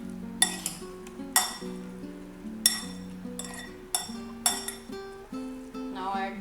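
A spoon clinks against a bowl while corn chaat with chopped onion is mixed, sharp metallic taps landing about once a second over soft background music.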